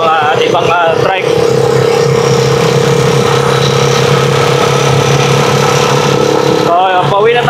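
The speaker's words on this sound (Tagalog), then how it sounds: "makapag-drive-thru na tayo guys gamit itong trike na Rusi Chariot" A Rusi Chariot trike engine drones steadily at close range through a drive-thru, a loud continuous mid-pitched hum, with people talking briefly over it at the start and end.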